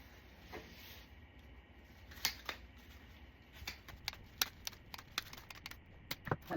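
Scissors snipping through stems of an artificial flower filler bush for a spring grapevine wreath, a series of sharp quiet cuts and clicks growing more frequent toward the end, no talk.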